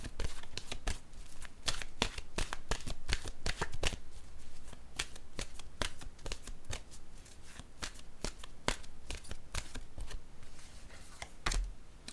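Oracle cards shuffled by hand before a draw, a steady run of crisp papery riffles and snaps, close and clear with no speech.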